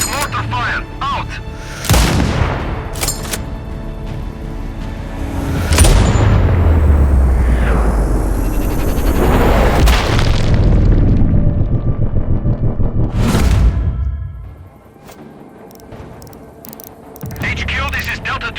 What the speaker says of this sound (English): constant mortar fire